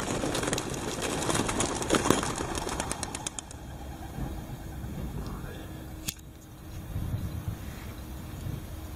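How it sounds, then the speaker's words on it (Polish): Flock of racing pigeons released together at a start, a burst of many wings flapping as they take off, then fading into quieter outdoor ambience. "Gołębki super odeszły w jednej grupie."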